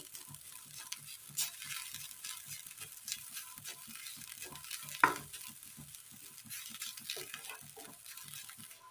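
A sweet grape mixture is stirred in a pan as its liquid cooks off, giving a steady soft sizzle with repeated scraping strokes and one sharper clink near the middle.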